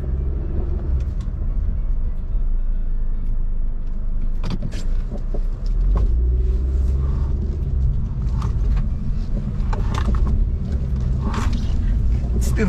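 A car drives on a wet track on Dunlop Direzza DZ-102 tires through a tight corner in the rain, giving a steady close road rumble with tire noise and a few sharp clicks and rattles throughout.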